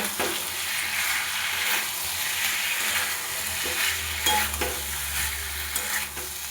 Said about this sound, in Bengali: দিয়ে খুব ভালো মতো করে একটু কষিয়ে নেব।